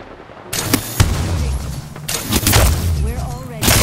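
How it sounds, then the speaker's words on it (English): Gunfire bursts in Apex Legends, Season 14, loud bursts of shots in clusters, with booming impacts and voices talking between them. "Opening fire."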